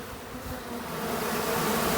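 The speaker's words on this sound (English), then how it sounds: "Now that is a mess of bees, y'all." A large mass of honeybees, just removed from a hive inside a wall, drones in a close, steady buzz that swells slightly louder over two seconds, with no voices.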